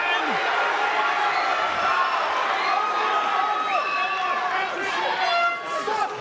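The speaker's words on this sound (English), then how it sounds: "you can hear the roar from the crowd" A crowd at an Eternal MMA 88 bout roars loudly and steadily, a dense wash of cheering and shouting that holds for several seconds with a brief dip near the end.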